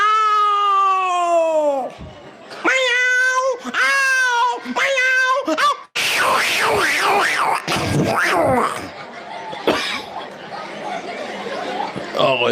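A mimicry artist at a North Karnataka comedy show imitates a second cat, drawn-out wavering meows and caterwauls voiced loudly and close, followed by a burst of audience noise and chatter.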